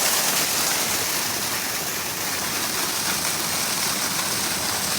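Water flowing steadily through on a farm, a continuous rushing wash at constant level, close by, with no talk over it.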